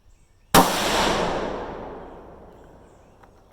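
A single loud rifle shot from a Ruger 6.5 Grendel firing Hornady 120 ELD loads, a sharp crack followed by a long fading echo, alone with no talk.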